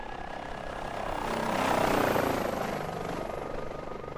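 Airbus H145 air-ambulance helicopter in Microsoft Flight Simulator, its rotor and turbine drone swelling to a peak and easing back, steady and fairly near with no talk.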